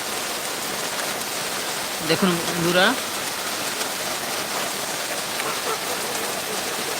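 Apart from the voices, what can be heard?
heavy rain falling on a lake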